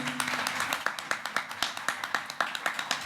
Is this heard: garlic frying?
no